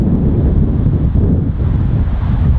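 Wind gusting on a golf course, a loud, constant rumbling roar buffeting the microphone for a couple of seconds with no other sounds.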